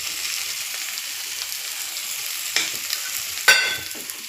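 Fish pieces for Telangana-style chapala pulusu sizzle steadily in a pan with spice powder, salt and chili, while a utensil stirs through them in two sharp scraping strokes, close and clear.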